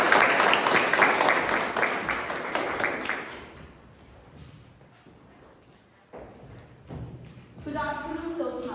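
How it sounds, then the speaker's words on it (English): Audience at a Toastmasters club meeting giving a round of applause, dense clapping that fades out after a few seconds, followed by quiet room noise, a few thumps and a voice starting to speak. "come on the stage with a big round of applause"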